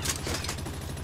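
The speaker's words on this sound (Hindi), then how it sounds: "कितनी गोलियां चलाएगी मैडम जी" Enemy gunfire in Palworld at an oil rig, a brief rapid burst of shots, loud and close.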